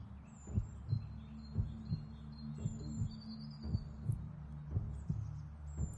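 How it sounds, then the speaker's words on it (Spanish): A steady heartbeat thumps in a slow, regular rhythm throughout a guided meditation, with soft high-pitched tones and chirps sounding above it. "con los sonidos del corazón"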